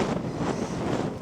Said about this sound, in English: but it's super windy